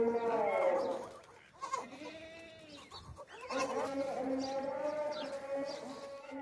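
Several goats bleat at a goat market, overlapping wavering cries close by, one after another with a short lull in the middle, amid background bustle.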